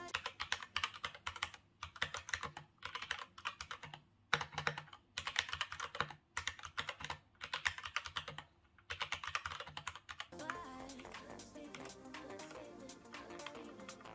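Typing on a Kemove DK61 Snowfox 60% mechanical keyboard with Gateron Brown switches, close and crisp, in rapid bursts of keystrokes separated by short pauses; near the end the clicks give way to a different, continuous sound.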